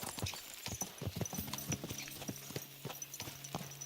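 Horse hooves clip-clopping in the medieval game Kingdom Come Deliverance II, a quick irregular run of hoof thuds at moderate loudness with a faint low steady hum underneath and no speech.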